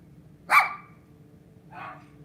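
Dogs bark in the background indoors, one sharp bark followed about a second later by a softer, shorter one, with quiet between them.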